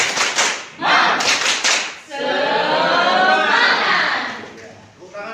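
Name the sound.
class clapping hands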